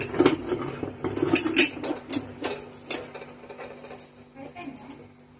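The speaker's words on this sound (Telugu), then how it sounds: "కుక్కర్ మూత పెట్టేసుకొని" A metal pressure cooker lid clanks and scrapes onto the pot of cucumber curry, giving several sharp, close metallic knocks and clinks spread over a few seconds.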